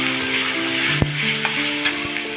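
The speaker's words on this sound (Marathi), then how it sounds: "त्यामध्ये आपण मिक्सरमधून जी पेस्ट करून घेतलेली ती घालूया आणि ती सुद्धा छान आपण मिक्स करून घेऊया" Ground masala paste sizzles steadily in a frying pan as it is stirred into jackfruit dry bhaji, with a few sharp clinks of the utensil against the pan over the continuous hiss.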